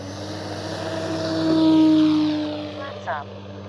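An E-flite Carbon Z T-28 electric RC warbird plane takes off, its steady motor whine swelling louder at mid-run, then easing off as it climbs away.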